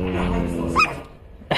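A dog gives two short, near barks at home, the first sharper and louder, the second brief, with a soft whine beneath.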